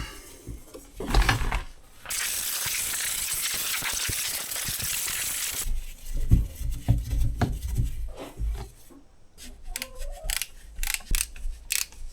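A ratchet works at the carburetor mounts of a vintage Husqvarna 162 chainsaw, with quick clicking ratchet strokes, a steady whirring stretch, then bursts of metallic rattles and clicks up close; no talking.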